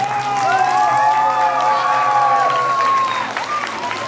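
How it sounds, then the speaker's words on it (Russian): A concert hall audience at a children's dance show applauds loudly and steadily, with high whoops and cheers rising over the clapping before it thins toward the end. "Аплодисменты еще раз."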